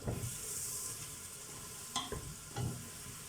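Ground red pepper stirred in a frying pan for a village herse dish, a steady close sizzle with a couple of scraping stirs of the spoon, no speech.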